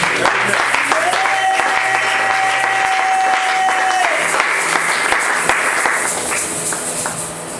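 A seminar audience applauds and cheers, loud sustained clapping from a large crowd with a steady tone ringing briefly through it, fading slightly toward the end.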